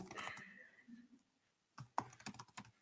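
Typing on a computer keyboard, two bursts of fast, close key clicks separated by a short quiet gap, the second flurry sharper and more rapid.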